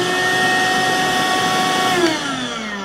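A Stanley SFMCV002B cordless vacuum cleaner runs with a steady, loud motor whine that holds throughout and drops slightly in pitch near the end, with no talking.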